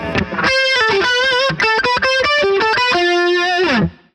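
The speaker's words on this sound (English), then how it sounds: "some of them are straight notes, other ones get that pinch harmonic sound in there" A distorted electric guitar rips through a quick run of notes, some played straight and others squealing with pinch harmonics, ending on a held bending note that cuts off sharply, loud and close.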